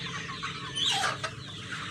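Free-range kampung super chickens cluck softly in a steady low murmur, with one brighter call standing out midway, nearby with no talking.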